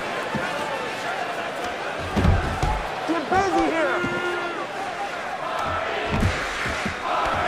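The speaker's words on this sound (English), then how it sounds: "The crowd in favor of the outlaw, Dan Hardy." Arena crowd in the UFC Undisputed 3 video game during a Dan Hardy vs. Martin Kampmann fight, a steady cheering roar with occasional thumps and swells, running under continuous commentary.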